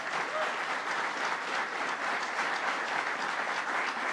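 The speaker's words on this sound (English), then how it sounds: "Let's give her a round of applause as well." Steady applause from an audience at a New York State firefighter training announcement, a dense, even wash of many hands clapping that holds at a moderate, slightly distant level throughout with no talking over it.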